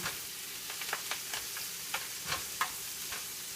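Breakfast frying in a pan before eggs go in, a continuous gentle sizzle with occasional soft stirring clicks, close and quiet, no voices.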